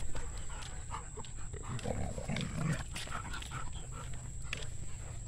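Three dogs, including an American bully and a pug, whimper and make short, excited vocal sounds close by over a low background hum.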